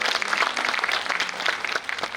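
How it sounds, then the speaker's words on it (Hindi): Audience applause greeting a guest at a Sanskar Bharti cultural gathering, a dense, steady wash of many hands clapping throughout, fairly loud and without talk. "एक बार जोरदार तालियां उनके स्वागत में पुनः"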